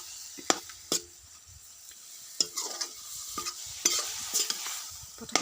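A spoon scrapes and taps as grated coconut mixed with sugar is stirred in a pan for semolina coconut laddu, producing irregular close-up knocks and scrapes over a faint, soft sizzle, with no talking.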